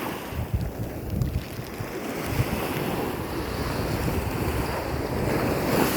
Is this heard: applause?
no